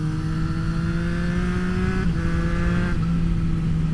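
A 2024 Triumph Street Triple RS motorcycle is ridden hard off-road, its engine holding a loud, steady drone with a brief throttle dip and pitch shift partway through, close and continuous with no talk.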